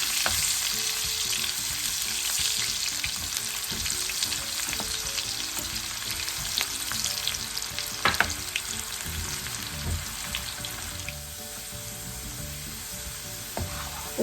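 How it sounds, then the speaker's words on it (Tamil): Thinly sliced carrots fry in a pan for a string hopper mix, a loud, dense, steady sizzle up close, with occasional utensil scrapes and spatters through the long stretch. "இதுக்குள்ளே நாங்கள் இந்த கேரட்டை போட்டு பொறிச்சு எடுத்துக்கொள்ளுவோம்"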